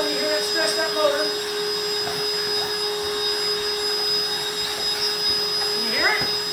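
Vacuum cleaner motor whines steadily under strain, a continuous close drone with a high tonal hum, while someone talks intermittently over it.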